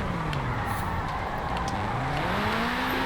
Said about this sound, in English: that nice rally engine just screaming all cylinders